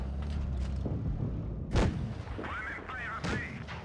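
Tank cannon shots in World of Tanks Blitz, with an AMX 30 B in battle: two heavy, booming blasts a second or so apart, with someone talking over the game sound.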